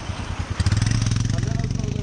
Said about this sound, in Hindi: बाइकर्स आ रहे हैं यहाँ पे भाई